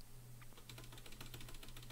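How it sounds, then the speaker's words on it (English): Quiet key presses on a computer keyboard, a string of soft, close clicks and taps in an uneven rhythm over a faint background hum. "Just hit the up arrow on your keyboard and erase all that up until the big F."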